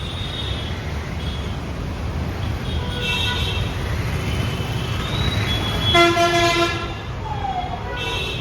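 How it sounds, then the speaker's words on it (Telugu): Busy road traffic near a stadium in Uppal, Hyderabad on a match day, with a steady roar of vehicles and repeated car and truck horns honking, some long and some short, over crowd noise and nearby talking. "అదే ట్రాఫిక్."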